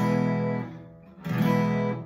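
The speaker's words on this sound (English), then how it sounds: "A down strum would sound like this." An acoustic guitar down strum, played twice, with full ringing chords, each one close and clear and fading between them.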